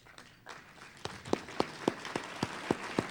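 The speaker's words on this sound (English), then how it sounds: "please stand and give one final round of applause to the class of 2010" Scattered handclaps from an audience at a 2010 sports hall of fame induction ceremony, a sparse, evenly spaced series of about eight sharp claps that grows slightly louder toward the end, with no cheering.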